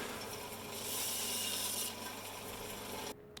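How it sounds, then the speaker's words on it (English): Sanding on a scratchbuilt wooden model piece, a steady close rasping rub that swells for a couple of seconds, eases off, then stops abruptly. "Sanding it off here."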